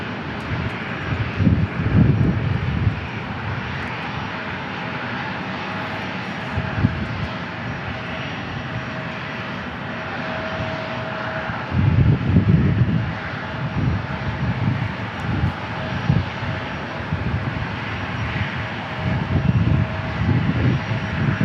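A fixed-wing airplane at San Diego International Airport roars on takeoff, a loud steady engine drone swelling at intervals, heard from nearby without voices.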